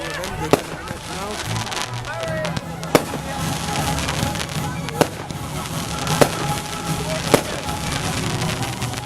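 Fireworks burst on Bonfire Night, with several spaced sharp bangs over a constant crackling rumble and chatter from people nearby.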